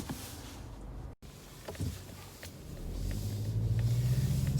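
A 2021 Mazda3 Sport GT Turbo drives along with a low engine rumble and road noise, swelling to a steadier, louder drone in the last seconds.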